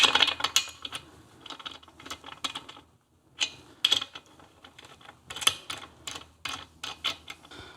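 A small T-handle wrench turns and ratchets while tightening a freshly machined points cover onto a Tiger Cub motorcycle engine, giving close, quick bursts of clicking metallic taps with short pauses between them.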